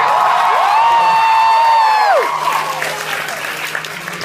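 A stand-up comedy crowd cheers and applauds loudly, a long sustained whoop riding over dense clapping before the applause carries on at a lower, steady level.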